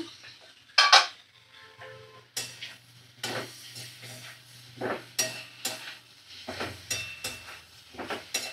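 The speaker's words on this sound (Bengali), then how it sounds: "দেখো, ঢাকাটা আমি খুলে নিলাম" A metal lid clanks off a cooking pot of vegetarian curry with a bright ringing scrape, followed by intermittent spoon scrapes and soft clatter against the pot while a faint sizzle continues, close by with no talking.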